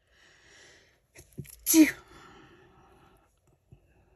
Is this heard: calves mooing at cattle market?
no